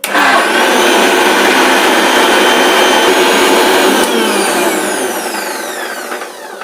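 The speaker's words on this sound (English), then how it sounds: "Now we'll grind it into the mixie and make it a fine powder." A mixie grinder whirs loudly and steadily, grinding chopped cauliflower into a fine powder, a continuous high motor whine that fades slightly toward the end, with no talking.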